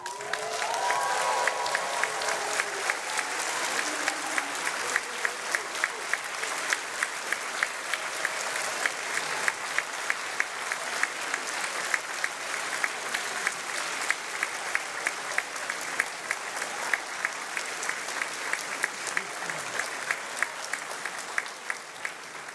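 A large audience at a University of Essex summer graduation ceremony applauds steadily with scattered cheers and whoops, a long dense clapping wash with rhythmic thumps, fading slightly at the end.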